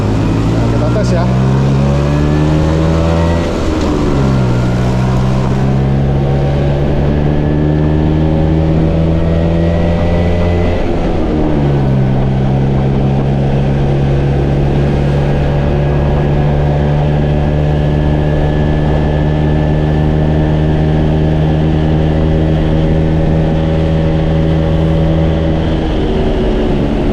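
A 1989 Vespa PS Strada scooter's small two-stroke engine on a test ride along an empty road, droning steadily and rising in pitch through several gear changes, loud and close, with speech in the background.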